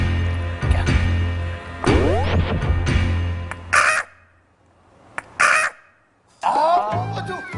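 A person imitates the frantic squawks and screeches of a chicken grabbed by the neck, in harsh, uneven bursts separated by short pauses.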